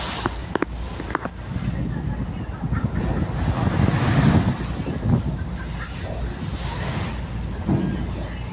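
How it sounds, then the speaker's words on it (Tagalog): Large sea waves crash and surge around a sailing boat out at sea off Northern Samar, with steady wind buffeting the microphone; the broadband wash swells and recedes continuously and loudly, and a voice talks faintly at moments. "Ayun, laki ng mga alon."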